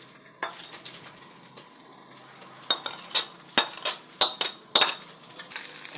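Eggs cook in a pan while a utensil scrapes and clinks against the metal. A soft sizzle runs underneath, and the clatter turns into a run of sharp, irregular knocks in the second half.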